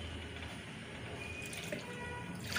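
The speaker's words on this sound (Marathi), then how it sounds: "मिक्सरचं भांडं जरासं पाणी घालून धुवून घेते" Water swishes and runs as a mixer grinder jar is rinsed after grinding semolina, a faint, continuous splashing wash close by.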